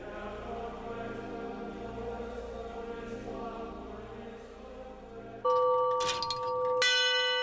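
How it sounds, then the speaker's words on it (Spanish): Small bells on an early mechanical clock ring out the hour with bright, sustained tones after a steady low rumble, several chimes overlapping near the end. "indicaban la hora mediante el sonido de unas campanillas"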